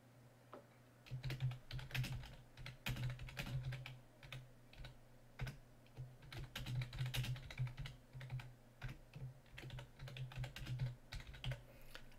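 Quiet, close typing on a computer keyboard, a continuous patter of key clicks in uneven bursts with brief pauses, no voices.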